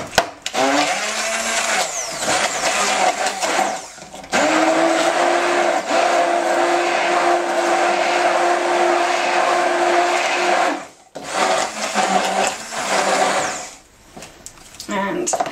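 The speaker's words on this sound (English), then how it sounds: "we're blending it until it's all sort of foamy" A blender whirs loudly as it blends bananas and egg until foamy, running in long continuous bursts with brief stops and pitch shifts as the motor speeds up and slows.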